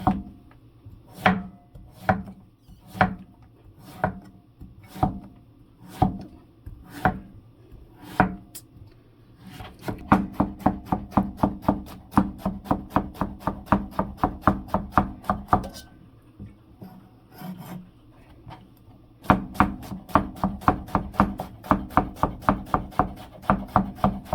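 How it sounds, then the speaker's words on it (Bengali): A knife chops bottle gourd on a cutting board for cooking, starting with slow, evenly spaced thuds, then shifting to fast, steady runs of close, crisp chops with a brief pause in between. "লাউ কাটা একটু শেষ হয়ে যাচ্ছে"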